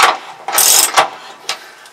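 A ratchet wrench clicks as a new bolt is run in by hand on a narrowboat water tank, bursts of rapid ratcheting strokes close up with short pauses between, no talking.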